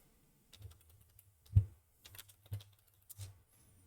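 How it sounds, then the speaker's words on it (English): Short bursts of keystrokes on a computer keyboard while typing a search in a Jira app marketplace, three or four soft clicks spread over a few seconds, close and quiet with no talk. "Let's type in script runners."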